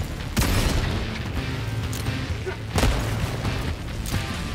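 Grenade explosions in Helldivers 2 battle, loud booms with crashing debris, a couple of heavy blasts amid continuous dense combat noise.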